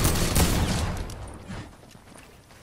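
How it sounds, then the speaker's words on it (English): Gunfire from a sniper in a shooter video game: a loud burst at the start that trails off into a fading rumble, followed by a single sharp crack near the end. "I just got took off by a sniper."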